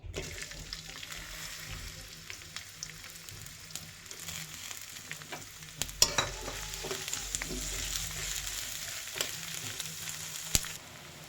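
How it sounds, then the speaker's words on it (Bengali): Garlic and chopped onion fry in oil for a dried-fish bhuna, a steady close sizzle with scattered stirring clicks and a louder, busier hiss in the second half. "তো এখানে আমি পরিমাণ মতো তেল দিয়ে নিলাম, দিয়ে দেব রসুন এবং পেঁয়াজ কুচি।"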